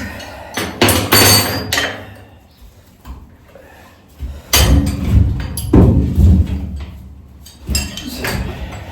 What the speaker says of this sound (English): So now I'm just going to start unbolting.